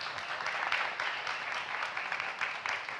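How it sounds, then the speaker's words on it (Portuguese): Applause from a literary panel audience at the FLUP event, a steady dense patter of many hands clapping at moderate, slightly distant level throughout, with no talking. "Eu queria uma salva de palmas para elas, por favor."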